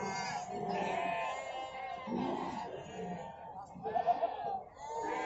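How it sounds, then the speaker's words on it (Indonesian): A brown goat of about one year bleats repeatedly at the Ngadirejo livestock market, nearby calls rising over crowd chatter and people talking. "Untuk kambing yang coklat ini, yang warnanya bagus ini."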